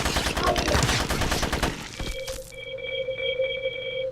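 Rapid automatic gunfire in the game GRAV, a dense burst of sharp close shots lasting about two seconds, then giving way to steady electronic tones.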